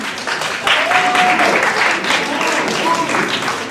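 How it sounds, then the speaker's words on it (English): Audience applause for a university hall debate team in opening government, a loud, sustained round of clapping with a few voices calling out over it, swelling slightly after the start. "So round of applause for them."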